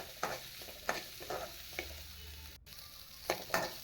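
Large onions sautéing in a pan for a horse gram chutney, with a steady low sizzle and several sharp spoon-stirring scrapes at intervals, with no talking.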